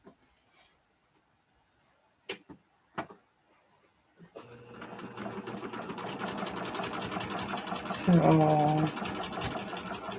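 Sewing machine stitching fabric runs steadily and loudly for the second half, a continuous motorized whir that rises briefly in pitch, preceded by a few sharp knocks and a short spoken word.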